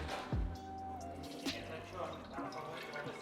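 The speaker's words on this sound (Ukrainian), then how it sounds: "Тому сюди заливаємо рідину для чистки форсунок." Injector cleaning fluid is poured into the ultrasonic bath of a Launch injector cleaning station, making a close, brief gurgling splash and trickle.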